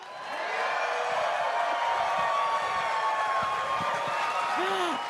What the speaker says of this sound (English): Can we get another cheer from the crowd?